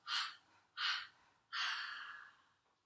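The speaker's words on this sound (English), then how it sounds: "go ahead and deep inhale and exhale 3 times out the mouth" Three breaths let out through the mouth during a guided meditation: two short airy exhales in quick succession, then a longer drawn-out sigh, soft and close with no talking.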